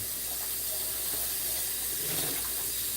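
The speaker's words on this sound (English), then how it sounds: "you don't have to see me, but you hear the water going" Tap water runs steadily into a sink while dishes are being washed, a continuous close, full rush with slight splashing variation throughout.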